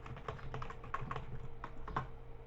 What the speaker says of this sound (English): And we'll type in